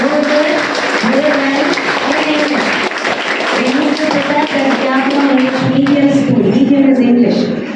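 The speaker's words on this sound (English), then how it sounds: "Give a big clap for yourself." Clapping from an audience at a school literature conclave book presentation, steady and loud throughout with voices and music-like tones running over it.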